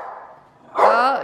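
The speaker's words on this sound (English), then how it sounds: "Oh, naughty little dog." A small dog gives a single short, sharp bark up close indoors, following a stretch of quieter background sound.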